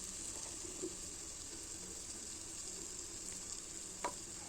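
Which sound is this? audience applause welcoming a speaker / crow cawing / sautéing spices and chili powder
sautéing spices and chili powder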